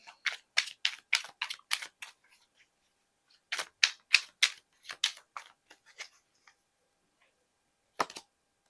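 Tarot cards shuffled and drawn, giving two bursts of quick crisp card flicks and riffles, close and fairly quiet, with a single sharp snap near the end.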